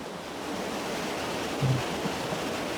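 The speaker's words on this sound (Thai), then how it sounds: "น้ำไหลมาจากเขื่อนขุนด่าน" Water pours steadily from a dam in Nakhon Nayok, a dense, constant rushing roar with no break, loud and close, with only a slight swell midway and no voices.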